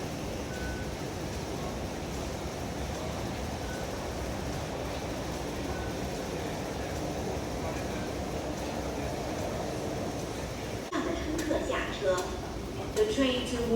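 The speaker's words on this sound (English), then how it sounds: "The train to Wukai is arriving." A light rail train arrives at Ho Tin LRT stop: a steady, close rumble runs throughout, then shifts near the end into sharper squealing and clattering tones.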